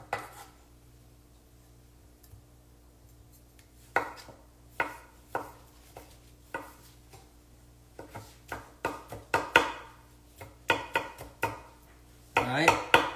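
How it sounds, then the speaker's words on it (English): Tomatoes are chopped small with a knife on a board, sparse cuts at first and then quicker bursts of close, crisp knocks, ending in a scraping run over a faint steady hum. "Chopping up the tomatoes kind of small here."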